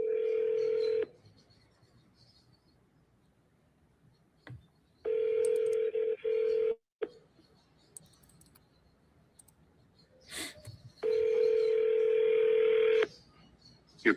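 Outgoing phone call ringing before being forwarded to voicemail, three long steady ring tones separated by quiet gaps, with faint clicks and brief voice between them.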